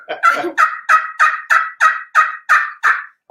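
A hand-held turkey call, a gobble-style call, mimics a gobbling turkey with a rapid run of about nine sharp, evenly spaced gobbles, loud and close, with no voices.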